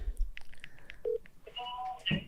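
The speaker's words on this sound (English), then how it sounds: "All right, we'll call him." Telephone dialing tones as someone places a call: a few short beeps, then a sustained chord of steady tones, moderately loud and close with no talking over them.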